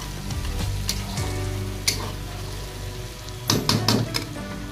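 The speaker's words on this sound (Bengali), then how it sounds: "সিম্পলি নাড়তে থাকো, সুন্দরভাবে মিক্স করে নাড়তে থাকো" A spiced mixture sizzles steadily in a pan while being stirred, with a few sharp utensil knocks and a cluster of scraping clatters near the end, close and moderately loud with no talking.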